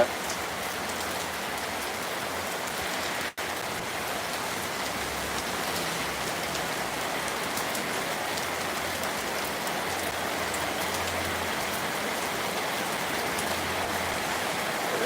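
Heavy rain falls in an unbroken wash of noise, with one brief click early on; no one speaks.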